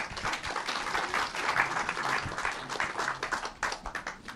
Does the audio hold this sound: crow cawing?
no